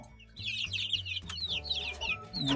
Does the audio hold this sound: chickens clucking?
yes